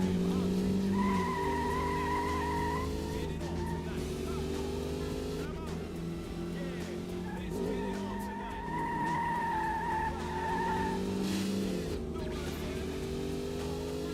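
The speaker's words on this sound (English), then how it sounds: "the audio always makes it sound like the cars behind me are much closer than they actually are" Racing engines from Metropolis Street Racer on Dreamcast drone continuously with rising and falling pitch sweeps, tires squealing at moments, as cars close in from behind over nearly fourteen seconds.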